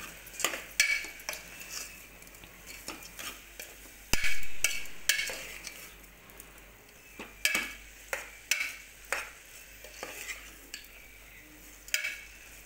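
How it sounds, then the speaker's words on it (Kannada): Metal spoon scraping and clinking in a pan as chili powder fries with a soft sizzle underneath, a steady run of sharp stirring taps, close and fairly loud. "ಖಾರದ ಪುಡಿನ ಹಾಕಿ ಅದನ್ನು ಸ್ವಲ್ಪ ಫ್ರೈ ಮಾಡ್ಕೊಳ್ತೀನಿ"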